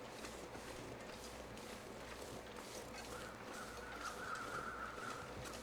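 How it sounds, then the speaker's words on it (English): Crows caw in the game The Long Dark: a few harsh calls over a steady wind-like ambient rush, clearest toward the end of the clip. "Are those the weather-changing crows?"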